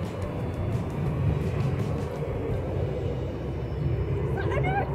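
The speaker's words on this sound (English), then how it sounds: "It's an airplane." An airplane passes overhead in a park, a broad continuous rumble that stays steady for several seconds, with faint outdoor background and a brief high chirp near the end.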